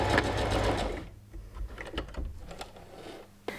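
A sewing machine back stitches a t-shirt shoulder seam with clear elastic, a close, loud whirring run that stops, followed by short bursts of stitching and a final clack.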